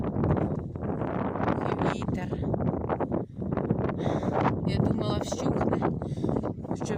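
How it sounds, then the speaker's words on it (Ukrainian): Strong, gusty wind in a spring garden buffets the microphone with heavy rumbling blasts and rustling throughout, loud and close, while a voice speaks under the wind noise. "але такий вітер, що дуже великий"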